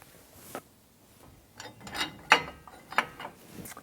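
U-bolts being fitted and tightened on a 2019 Toyota Tacoma suspension with an Ironman 4x4 Foam Cell Pro kit: a few quiet, scattered metallic clicks, clinks and brief ratcheting, close and sparse.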